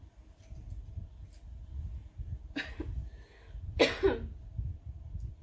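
Two short bursts of coughing, the second louder, over a low steady background rumble.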